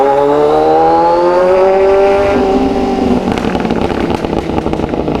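A Kawasaki Z1000 motorcycle revs hard near the microphone, the engine pitch climbing and then falling before a run of sharp crackling backfire pops, loud throughout.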